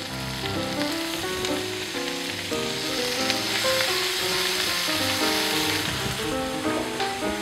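Shallots and black trumpet mushrooms fry in a pan, giving a steady, dense sizzle that holds close and even throughout, with no voices.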